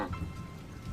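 Heavy monsoon-night rain pours and drips from the thatched roof of a cowshed, a dense, steady wash of drops that stays close and fairly loud for the whole moment, with no speech.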